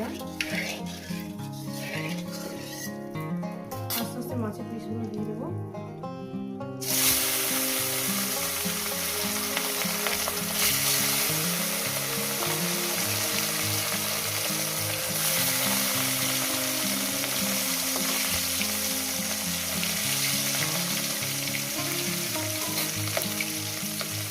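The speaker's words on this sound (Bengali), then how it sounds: "আস্তে করে ভাজবো মাছটা" Rohu fish pieces frying in hot oil with salt, a loud, steady sizzle that swells sharply a few seconds in and holds dense and continuous, with faint clinks of a pan underneath.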